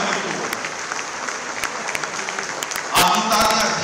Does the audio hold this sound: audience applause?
yes